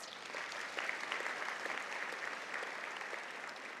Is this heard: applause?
yes